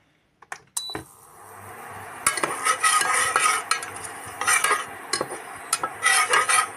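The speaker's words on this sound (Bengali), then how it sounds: "লবঙ্গটা বাদে আমি কিন্তু এলাচ দারচিনি তেজপাতা গোলমরিচ সবই দিয়ে দিলাম এই ঘিয়ের মধ্যে" Cardamom, cinnamon, bay leaf and peppercorns sizzle in hot ghee for mutton curry, with a steady frying hiss and repeated close scrapes and clinks of a spoon stirring in the pan.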